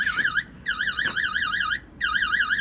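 A dump truck's warning alarm beeps in three warbling bursts with short gaps, steady and loud, with a fast up-and-down wobble in pitch.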